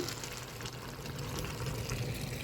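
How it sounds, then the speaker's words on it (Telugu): Cabbage and moong dal boil in water in a pot, giving a steady low bubbling and watery churn with soft fizzing on top, continuous and close, with no talking. "పెసరపప్పు క్యాబేజీ ఉడుకుతున్నాయండి"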